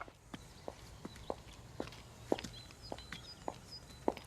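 Women's high-heeled shoes click along a footpath, a steady series of sharp, fairly faint taps spaced about half a second apart over a quiet outdoor hum with distant birds.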